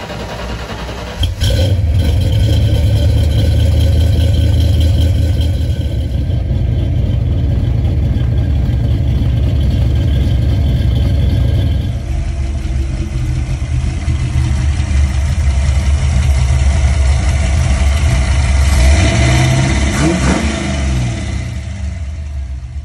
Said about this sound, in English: Got this thing fired up.